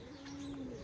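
A pigeon gives one soft, low coo, faint and short, in a quiet village setting.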